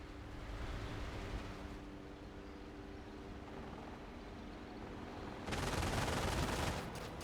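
Machine gun fire in the real-time strategy game Company of Heroes, a low rumbling battlefield bed that breaks into a loud, dense burst of automatic fire near the end.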